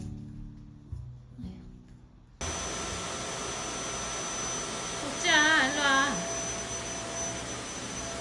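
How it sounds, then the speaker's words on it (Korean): A household vacuum cleaner switches on abruptly after a quiet stretch and runs steadily with a whining hum, while a voice calls out over it midway. "청소기 무서워?"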